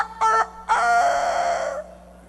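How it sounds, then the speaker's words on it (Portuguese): A rooster crows nearby, a short call followed by a long, drawn-out cock-a-doodle-doo that fades off, loud over a faint low background hum. "E o galo cantou 3 vezes."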